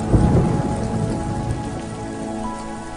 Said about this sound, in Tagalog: Wow! Ang lakas ng ulan.